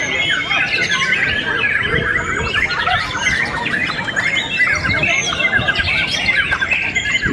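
Songbirds at an Indonesian bird singing contest chirp, trill and squawk in a dense, unbroken chorus, loud and overlapping throughout.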